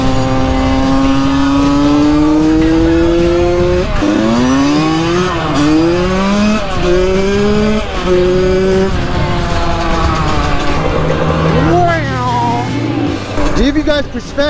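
A Yamaha YZ85 two-stroke dirt bike engine revs loudly and continuously while riding, its whining pitch climbing and dropping repeatedly through gear changes.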